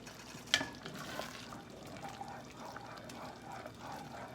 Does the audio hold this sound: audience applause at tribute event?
no